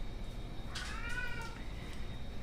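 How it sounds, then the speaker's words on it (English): A house cat meows once, a short, clear call midway through, heard over a steady background hiss in a home kitchen while peppers and eggs are being cooked. "every time I start to do a video, my cat decides to speak"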